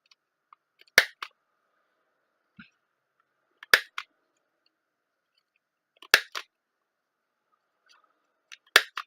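Small craft punch or scissors rounding the corners of a small paper label, giving four sharp crisp snips spaced evenly a few seconds apart, each a quick double click, close and clear in an otherwise quiet room.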